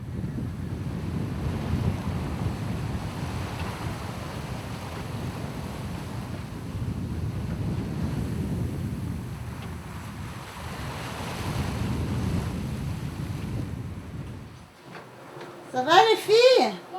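Wind and ocean waves wash steadily around the sailboat Fleur Australe at sea off Brazil, a broad continuous roar that swells and eases before dropping away, with a brief burst of a different sound at the very end.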